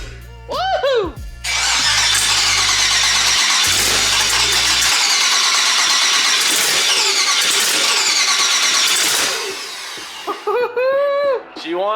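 An LS-swapped New Edge Mustang cranks over and fires up with a loud, raw roar that runs steadily for several seconds, with people whooping and talking around it.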